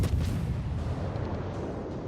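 Naval gunfire hits a ship in the War of Warships video game as a deep, booming blast that rumbles on at high volume and slowly fades over two seconds.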